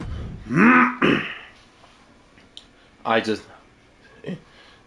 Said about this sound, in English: I just have to like cough there for like a quick second